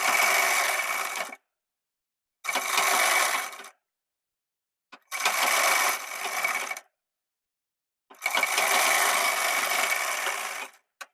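Four separate runs of a sewing machine stitching the side seam of gents' underwear, each a loud, close, rapid mechanical whir broken by short silent pauses.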